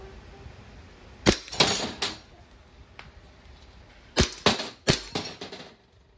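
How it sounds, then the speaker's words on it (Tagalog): A WE airsoft Glock 18C Gen 3 pistol fires in sharp snapping bursts: a quick cluster of shots, a pause, then another rapid run of cracks with mechanical clacks, close up and with no talk. "Okay, so testing po, Sir Aaron. Glock 18C Gen 3."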